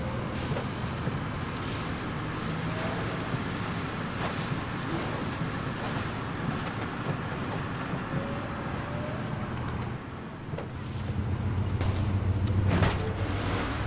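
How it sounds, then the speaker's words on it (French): A car engine in the video game Far Cry 2 drones steadily with rumbling road noise and wind, swelling louder near the end, with no talking. "Est-ce que je prends une bagnole?"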